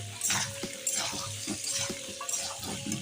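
Peas and ginger fry in a pan with a soft, wet sizzle and repeated clinks and scrapes of stirring, close and fairly quiet over three seconds.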